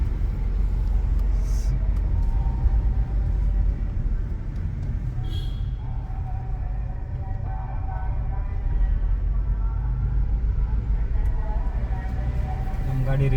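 A car climbing the hill road to Tirumala, a steady loud engine and road rumble from inside the cabin, with voices talking over it now and then.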